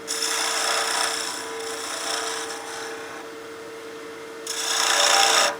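Spindle gouge cutting a spinning wood blank on a lathe for a bat house ornament, a steady rasping scrape that swells and eases in long passes, with a louder burst of cutting near the end, no voices.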